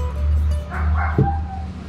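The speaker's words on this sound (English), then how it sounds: "So I'm gonna go inside and shut the dog up" A dog yips and whimpers from indoors at a backyard grill setup, a short high-pitched bark standing out over a steady low hum of background noise.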